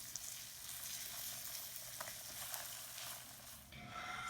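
Flour fries in olive oil for a curry roux, a soft continuous sizzle heard up close while it is gently stirred, with no talking.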